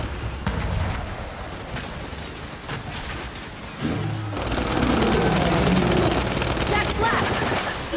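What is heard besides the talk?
gunfire in the video game Gears 5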